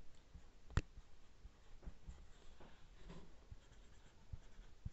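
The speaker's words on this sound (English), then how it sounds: "So let's write that down." Pencil writing on paper, soft scratchy strokes running through the quiet with one sharper tap near the start and a few light ticks, close and faint.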